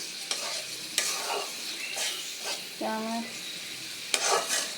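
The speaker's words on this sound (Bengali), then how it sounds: "ভালো করে ভাজা ভাজা করে লাল লাল করে নেব" Eggplant and tilapia fish fry in hot oil until reddish, a constant close sizzle broken by the scrape and clatter of a spatula stirring the pan.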